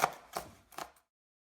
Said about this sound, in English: If you think you're done chopping, you probably need to chop a little more.